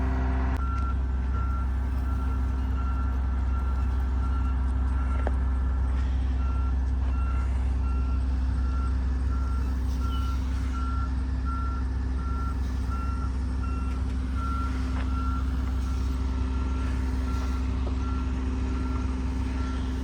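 Excavator reversing beeps ring out in a steady, evenly spaced series over the low, constant rumble of an idling truck and heavy machinery, loud and close throughout.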